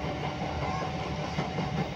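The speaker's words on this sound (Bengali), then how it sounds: "আসানসোল আদ্রা মেমু স্পেশাল নির্ধারিত সময়ের প্রায় আধ ঘন্টা লেটে আসানসোল স্টেশন ছেড়েছে।" An Asansol–Adra MEMU special passenger train rolls along in Purulia, a steady close rumble of wheels and carriage noise running unbroken throughout with no voices.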